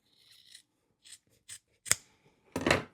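Scissors trimming fabric around the corner of a bag being sewn, five short separate snips with quiet pauses between them, the last cut the longest, close and clear.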